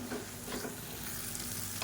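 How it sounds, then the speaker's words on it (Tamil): Cashews and grated coconut being sautéed in a pan, giving a steady, soft sizzle with faint stirring scrapes throughout, close by and with no talking. "இப்போ இதையும் சேர்த்து நல்லா வதக்கிக்கலாம்."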